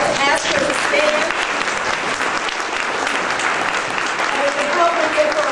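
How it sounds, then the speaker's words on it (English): Dense, loud audience applause at a humanitarian award ceremony honoring an elderly woman, a sustained even roar of many hands clapping, with voices speaking faintly over it. "Give her a round of applause to say thank you."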